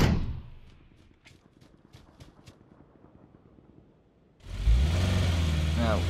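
A car engine in PUBG revs up and pulls away, a loud mid-range rumble that swells suddenly after a quieter stretch of soft tapping and rhythmic background noise, with a brief rising whine near the end.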